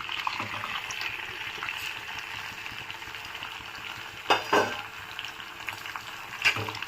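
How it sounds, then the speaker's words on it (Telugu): Chopped tomatoes and green chillies frying in a pan for tomato chutney, a steady close sizzle broken by a few louder stirring clatters, no voices. "పచ్చిమిర్చి వేగిన తర్వాత కట్ చేసి పెట్టుకున్న టమాటాలు వేద్దామండి."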